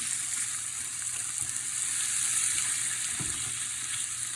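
Marinated pork frying in a pan, a steady close sizzle with a few soft knocks of stirring, moderately loud with no talking.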